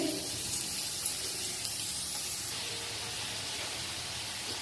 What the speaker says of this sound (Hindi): इनको मैं इसमें ऑयल में डालूंगी और इनको हम चिप्स की तरह फ्राई करेंगे।